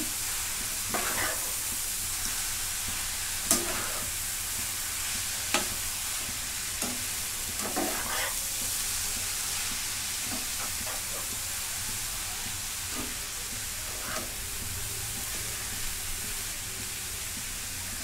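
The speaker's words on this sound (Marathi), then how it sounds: "परतून घेते आधी." Ingredients for a jaggery mango dish sauté in a hot pan with a steady, loud sizzle that runs throughout, with occasional clinks and scrapes of a stirring spoon and no speech.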